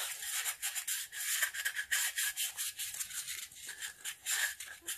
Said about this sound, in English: First thing we're going to do is sand this.